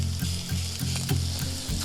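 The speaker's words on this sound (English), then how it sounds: "Now I'm just gonna add those mushrooms, saute them up." Mushrooms sauté in olive oil and melted butter, giving a loud, continuous close-up sizzle with rhythmic stirring pulses over a low tonal background hum.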